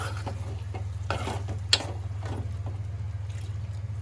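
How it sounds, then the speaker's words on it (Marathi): Prawn masala with a dry ground spice paste is stirred and sautéed in a pan, with intermittent scraping strokes and a soft sizzle over a low steady hum, plus one sharp clink midway and no speech. "पाणी पण घ्या आता जरा परतून पाणी टाक"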